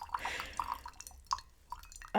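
Water is poured and dripped to rinse tea leaves, giving faint trickling splashes and a few small separate drips close by in a quiet space.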